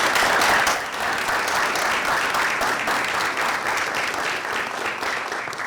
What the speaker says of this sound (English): I think the school system deserves a well-rounded applause